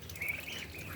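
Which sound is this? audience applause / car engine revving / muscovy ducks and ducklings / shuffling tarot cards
muscovy ducks and ducklings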